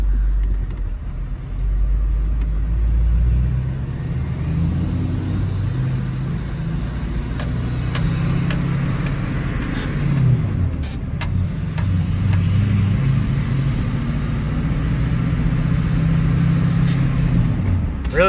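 A GMT800 2500HD three-quarter-ton pickup with the LLY diesel and ZF6 manual gearbox drives along, its low engine drone steady throughout, with a few brief sharp clicks and squeaks from the cab and a slight rise in engine note partway.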